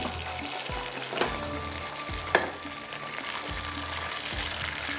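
Onion and rice fry in hot oil, giving a soft, steady sizzle with a few stirring scrapes and light clinks in between, fairly faint throughout.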